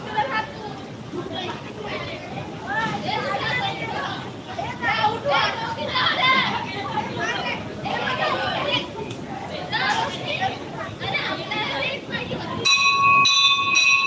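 A school bell rings at the end of break on a rainy day, a bright steady ring bursting in loudly near the end after a long stretch of children's chatter and playground noise.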